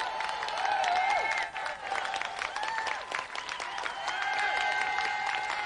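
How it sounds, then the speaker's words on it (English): A television studio audience applauds steadily, dense clapping filling the whole stretch with a few whoops and brief voices mixed in. "Let's have another round of applause then for Paul Davis and Dave Goodyear."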